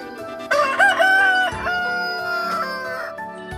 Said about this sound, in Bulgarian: Петел да кукурига.